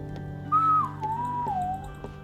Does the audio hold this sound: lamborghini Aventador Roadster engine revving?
no